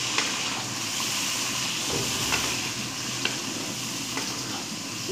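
Garlic and onion paste being stirred in a hot frying pan for a chicken and bottle gourd curry, a steady close sizzle and hiss with occasional spoon scrapes and taps against the pan.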